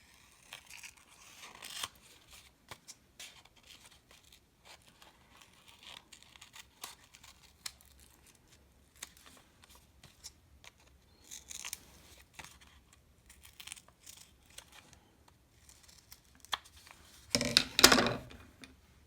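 Scissors snip out a paper bookmark in a quiet room, faint scattered clicks and paper rustles with a louder burst of cutting and crinkling near the end.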